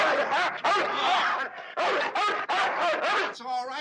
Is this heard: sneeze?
no